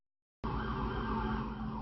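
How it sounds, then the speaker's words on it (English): A fire engine siren cuts in abruptly after a short silence and holds steady, loud and close, with no voices. "When you hear that fire engine siren"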